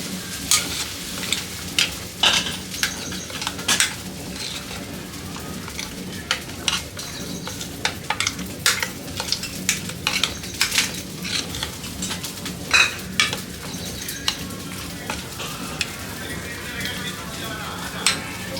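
Chutney being stirred with tempering and salt in a pot, scattered clinks and scrapes of a spoon against the vessel at an irregular rhythm over a low background hum, close and moderately loud.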